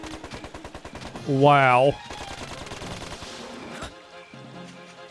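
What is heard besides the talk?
new gun firing in Dark Cloud 2 video game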